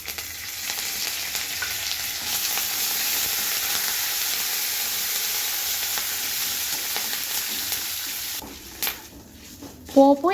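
Cumin, mustard seeds, a dried red chili and curry leaves sizzle steadily in hot oil for tempering a tamarind-leaf chutney, a loud continuous crackle that quiets near the end as a few clinks sound.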